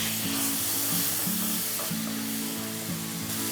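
Chopped tomatoes and onions fry in a pan with a constant close sizzle, a broad hiss overlaid with a repeating low hum and no voices.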